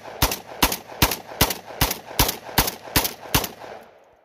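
A Silver Eagle shotgun firing Winchester Super Target shells: nine loud, evenly spaced blasts in a steady rapid rhythm, about two or three per second, then a brief fading tail.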